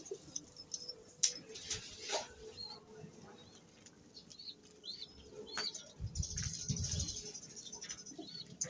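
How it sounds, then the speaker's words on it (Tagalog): Pet pigeons in a fancier's loft give soft, low cooing calls near the end, amid scattered chirps, light rustling and pattering sounds at close range. "Ito ang ating mga ibon sa kabila."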